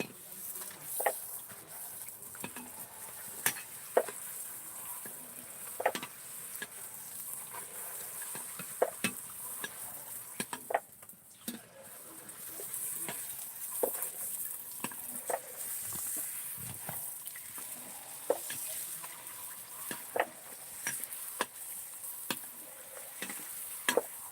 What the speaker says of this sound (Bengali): একদম ন্যাচারালভাবে গ্রামের মাটির উনুনেই বন্ধুরা ফুচকা ভাজা হচ্ছে